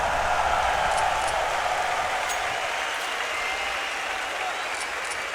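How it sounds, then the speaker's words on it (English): Arena crowd roaring at a CS:GO major in Kraków before a Gambit versus Fnatic match, a loud, continuous wash of cheering and applause with a commentator talking over it. "Just listen to that crowd."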